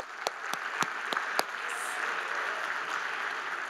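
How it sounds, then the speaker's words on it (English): Audience applause at the Edison Awards 2023 gala, beginning with a few sharp, distinct claps before settling into a soft, steady patter of clapping from a distant crowd. "Let's give them one more round of applause."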